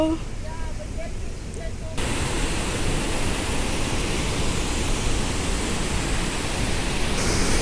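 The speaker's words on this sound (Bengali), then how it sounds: "দেখেন আমি ঝর্নার আরও কাছে চলে এসেছি এই যে ঝর্নার পানিটা এদিক থেকে পড়তেছে" A Swiss waterfall roars as a loud, even hiss of falling water that swells in after a brief spoken opening and holds steady, close by, to the end.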